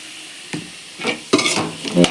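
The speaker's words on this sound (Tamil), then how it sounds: "நல்லா வதக்கிக்கலாம்" Potatoes sauté with asafoetida in a pan, producing a few close scraping stir strokes over a low sizzle, loud and brief.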